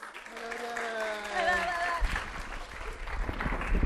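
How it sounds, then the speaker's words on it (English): Audience clapping at a spring graduation orientation for a named person, rising under a voice in the first half and continuing as moderate, scattered applause once the talking stops. "Everyone, please give an applause for Troy Hopkins"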